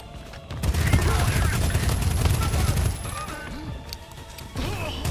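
Gunfire and crashing explosions from a first-person shooter game fill the stretch, loud bursts with clattering impacts, fading briefly near the end before picking up again.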